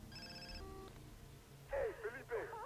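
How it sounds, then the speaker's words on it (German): A telephone rings in Far Cry 3, a few quiet tonal electronic ring pulses, followed by a voice speaking. "Telefon."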